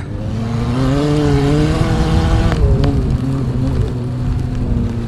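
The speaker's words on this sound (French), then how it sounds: "Alors beaucoup de dérapage ici dans cette accélération et cette descente." A race prototype car accelerates downhill at an off-road cross festival, its engine roaring loud and close with a rising, wavering pitch as the tyres slide, under a constant rough rumble.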